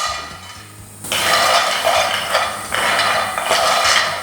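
Almonds and peanuts toasting in a pan, stirred with a utensil that scrapes and clinks against the metal in close, rattling bursts, the loudest starting about a second in and running continuously with brief dips.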